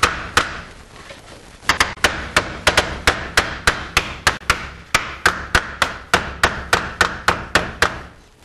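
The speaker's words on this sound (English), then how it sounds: "you can always take a hammer and smack the edge of it to get it tighter" A hammer smacks the edge of a go-kart exhaust heat shield in a long, steady series of sharp metallic blows, two early strikes then a regular rhythm of roughly two or three hits per second, close and loud.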